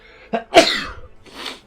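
A single sharp human sneeze, close and loud, with a small intake breath before it and a softer breathy exhale trailing after.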